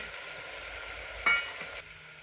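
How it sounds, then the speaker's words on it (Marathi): Peas tip into a pan of sizzling pav bhaji vegetables with chopped potatoes, giving a short soft clatter and a brief stir over a steady, fairly quiet frying hiss. "त्यानंतर मटार टाकत आहे"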